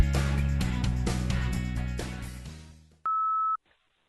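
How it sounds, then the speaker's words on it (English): A musical passage fades out, followed by a single steady electronic voicemail beep lasting about half a second, then silence. "Now it's your turn to speak at the beep."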